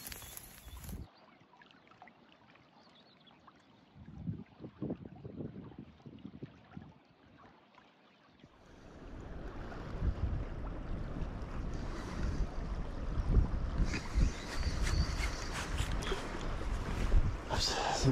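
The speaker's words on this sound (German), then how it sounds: "Immer noch ein bisschen sehr, sehr windig" Strong wind buffets the microphone in a steady roar on the Elbe riverbank, growing louder partway through, with quieter gusts and faint voices earlier on.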